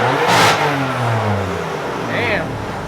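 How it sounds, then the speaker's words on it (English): A BMW F80 M3 fitted with an SSR intake and exhaust is revved hard, a loud burst followed by a falling engine note, close by, with people talking over it. "You hear it, but the exhaust is so overwhelming."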